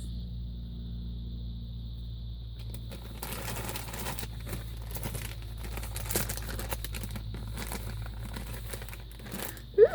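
Plastic baggies crinkling and rustling as they are rummaged through after a haul from an op shop, with faint crackles building to denser rustling under a steady low background hum, no speech.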